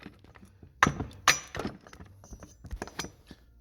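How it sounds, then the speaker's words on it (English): A 1980s Craftsman chainsaw crankshaft is struck to jar the flywheel loose, giving two sharp metallic knocks early on, followed by lighter clinks and handling taps at close range. "I'll whack it right here, right on the crank"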